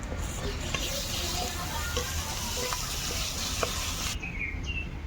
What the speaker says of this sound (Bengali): হলুদ গুঁড়ো সব মশলা দিয়ে এবার আমি কষিয়ে নেব